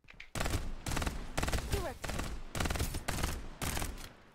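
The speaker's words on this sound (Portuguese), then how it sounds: "Eu não gosto dessa arma que é rajada" Burst-fire weapon shooting in the video game Farlight 84: loud, near rapid bursts of gunfire repeating in rhythmic volleys with short gaps, dense and continuous across the clip, with no talk over it.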